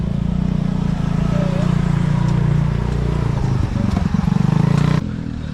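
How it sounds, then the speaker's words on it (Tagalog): A motorcycle goes by on a road in Batangas, its engine a steady low drone that holds for several seconds and then drops away abruptly near the end. "May motor."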